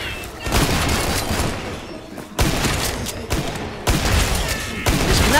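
Rapid bursts of gunfire and booming shots in the video game Killing Floor 2 on the Farmhouse map, loud and sustained in several waves, with voices talking over them.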